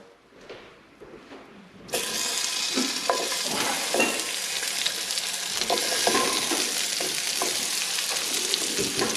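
Potatoes dropped into a hot pan burst into a loud, steady sizzle after a quiet start, frying continuously with occasional stirring scrapes.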